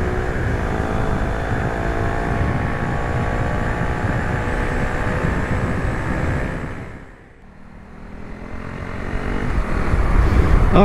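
A Husqvarna Vitpilen 401 motorcycle passing a white van on a road, its engine droning steadily with wind roar before briefly dipping and then rising again as the bike pulls past.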